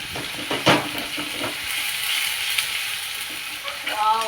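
Tomato masala for Maharashtrian stuffed eggplant sizzles steadily in a frying pan while a spoon stirs through it, with soft scraping taps over a constant close frying hiss.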